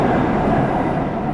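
A train passes through a small town near Davos, a loud, steady rumble and rush that stays close and continuous with no voices.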